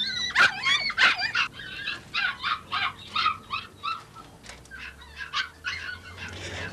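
Puppies in a pet shop yelp and whimper in a quick run of high, squeaky cries, several overlapping calls in an irregular rhythm, close and fairly loud over quiet shop ambience.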